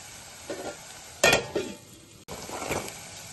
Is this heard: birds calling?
no